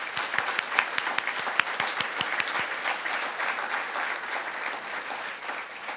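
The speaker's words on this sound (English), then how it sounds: "so let's give them a round of applause" A crowd claps steadily for several seconds, dense and fairly close, with sharper individual claps early on that blend into a sustained wash of applause.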